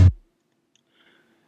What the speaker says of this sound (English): the first sample on it is just this kick drum I sampled from like a YouTube video